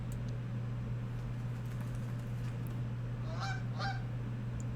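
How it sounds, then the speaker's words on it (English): A goose in the video game Tails Noir honks twice in quick succession near the end, set against a steady low hum and faint room noise. "It's a goose."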